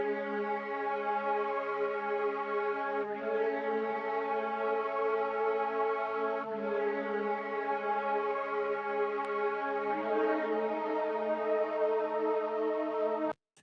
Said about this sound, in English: I went into Analog Lab and I grabbed this No Strawberries pad